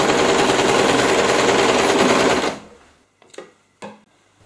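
A sewing machine stitches bias binding onto a jeans bag, a loud continuous rapid whirring run that stops after a couple of seconds, followed by two short handling clicks of fabric and machine.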